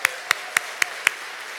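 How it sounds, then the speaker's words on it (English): At a church synod assembly, five sharp, evenly spaced claps ring out in a quick steady rhythm, close and distinct against a quiet room. "Let's give them a round of applause."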